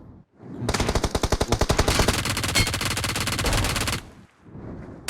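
Automatic gunfire in the mobile game PUBG Mobile, a loud rapid burst of rattling shots lasting about three seconds, alone and close, ending abruptly.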